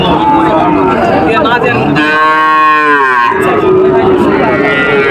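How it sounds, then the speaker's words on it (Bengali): Cattle at a livestock market low and moo loudly and close by, one long drawn-out moo standing out over a dense background of market bustle and chatter. "কিন্তু অনেক গরু আছে।"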